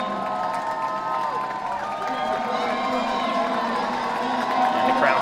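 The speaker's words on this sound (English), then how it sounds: "And the crowd's loving this" A stadium crowd cheers and roars steadily through a 3000 m steeplechase race, with whoops rising toward the end and a commentator's voice running over the noise.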